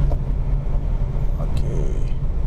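Chevrolet Cobalt engine in manual mode, a steady low drone of the motor with interior road noise as gears are shifted, heard close and continuous.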